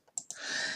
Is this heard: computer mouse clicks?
yes